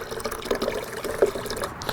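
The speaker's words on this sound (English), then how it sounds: "I'm gonna turn on my water hose and get some water going in here" A garden water hose runs into the hopper of a Graco GX-19 hopper-fed paint sprayer, a steady close splashing and trickling fill with brief gurgles and no talk.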